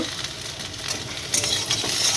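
Vegetables sizzle in hot oil in a pan while a utensil stirs and scrapes through them, a steady close frying hiss with brief clinks toward the end.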